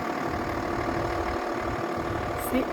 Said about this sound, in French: Avec le doux bruit du moteur.